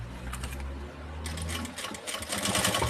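Sewing machine running a topstitch along the edge of a fabric lining to join it to the main piece, a steady close whir that pauses briefly and then starts up again faster.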